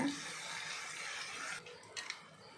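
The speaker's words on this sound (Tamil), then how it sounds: "இந்த மிக்சி ஜாரில் கொஞ்சம் ஒட்டிகிட்டு இருக்கிறதெல்லாம் தண்ணி ஊற்றி நம்ம கொஞ்சம் ஊற்றிடுவோம்" Water is poured into a mixer jar to rinse out leftover turmeric and Kashmiri chilli paste for garlic dosa, a soft steady splashing pour followed by a couple of light knocks.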